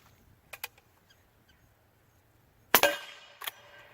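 A suppressed .44 Magnum lever-action rifle gives a couple of soft mechanical clicks, then one sharp, muffled shot with a short decaying tail, followed by a smaller metallic click, all close and with no talking.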